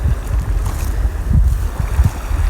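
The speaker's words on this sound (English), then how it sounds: "Enjoying the sound of the waves as they roll in." Waves roll in on a Manitou Islands lakeshore at a campsite, heard as low rumbling surges with wind buffeting the microphone, steady and close.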